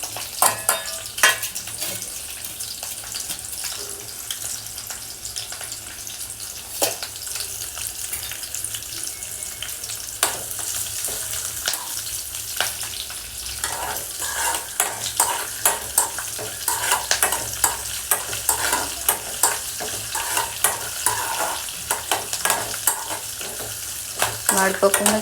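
Cumin seeds and curry leaves fry in hot oil for jeera rice, giving a steady close sizzle with scraping stirring strokes that grow busier toward the end.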